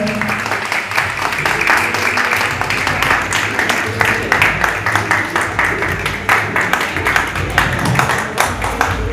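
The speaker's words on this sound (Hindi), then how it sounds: "श्री अनुज जी रॉय के लिए तालियां हो जाए" A hall audience claps for Shri Anuj Roy as he comes to the stage, a dense, even round of applause held at a steady level, with faint voices underneath.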